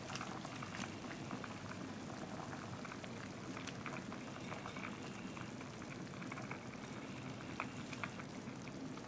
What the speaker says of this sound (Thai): เคี่ยวน้ำแกงไปได้สักพัก